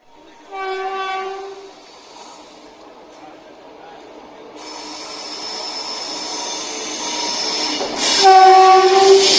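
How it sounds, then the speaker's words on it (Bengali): Purba Express passenger train in India, its horn sounding in a long blast near the start and again near the end over a rising rumble of the carriages on the rails. "উঠেছিলাম পূর্বা এক্সপ্রেসে"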